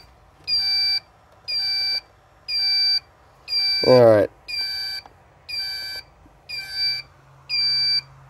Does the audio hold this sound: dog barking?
no